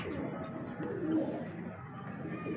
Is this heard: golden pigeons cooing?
yes